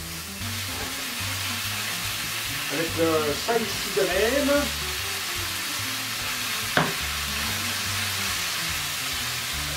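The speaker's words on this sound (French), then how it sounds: "Ça grésille, c'est bon signe." Ground beef frying in olive oil in a pan as a steady, broadband sizzle throughout, with a brief stirring scrape midway and a person speaking over it.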